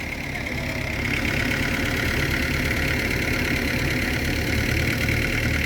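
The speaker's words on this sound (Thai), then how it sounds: "เดี๋ยวจะปั่นสูบน้ำขึ้นก่อน" An engine-driven water pump comes up to speed, then holds a constant, loud mechanical drone that runs evenly for several seconds, with no voices.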